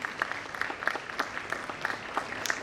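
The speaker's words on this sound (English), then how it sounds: "A good round of applause." An audience at a college freshers' welcome event claps for the new students, a thin, fairly faint patter of clapping from a modest crowd with distinct individual claps, heard alone.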